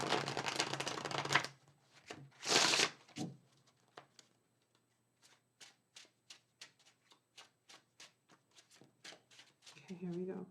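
Tarot cards shuffled in quick bursts: a loud riffle early on, then a run of sharp, evenly spaced card snaps and flicks, close and clear, with a brief rustle at the end.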